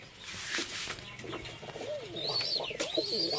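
Rajshahi Giribaz pigeons in a loft coo and rustle continuously, with fluttering wing sounds and a few sweeping high calls over a busy, close background.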